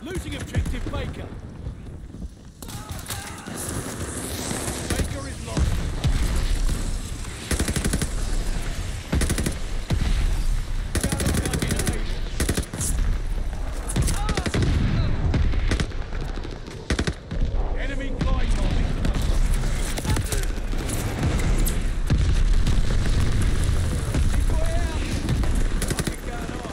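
Mortar shells and gunfire in the video game Call of Duty Vanguard: loud, continuous battle noise of machine-gun bursts and booming impacts with rumbling low end, while voices speak over the combat.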